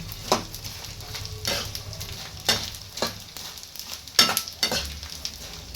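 In a home kitchen, a spoon scrapes and stirs ingredients being roasted in a pan, giving several sharp, close scraping strokes over a soft, continuous frying sizzle, with no talking.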